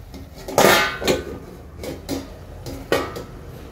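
A lid set down over a cooking pan at home while making paneer fry and mixed vegetable tarkari: a few close metallic clanks and knocks with brief gaps, one louder clatter near the start.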